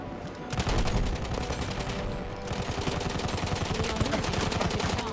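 Dense gunfire in the Battlefield 1 video game, with rapid machine-gun bursts and overlapping shots forming a loud, continuous barrage that barely lets up.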